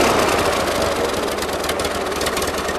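A 1941 Ford 9N tractor engine idles roughly with an uneven, knocking rumble, steady and close throughout without talk.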